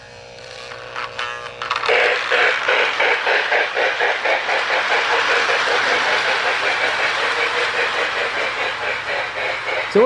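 A restored Lionel 1615 model switcher locomotive starts up and runs along toy track, a steady electric motor whir with rhythmic clicking over rail joints, loud and close, continuing without pause.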